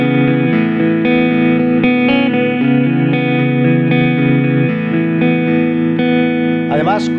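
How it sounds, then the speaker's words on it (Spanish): Electric guitar played through a Blackstar ID:Core 10 V4 amp with delay and reverb, sustained chords ringing out loud and clear with echoing tails, shifting every second or so, alone without talk. "delay y reverb."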